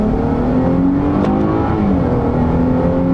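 A 2018 Dodge Charger SXT accelerating hard from first into second gear, heard from inside with a steady loud engine drone that rises in pitch, dips at the shift, then climbs again.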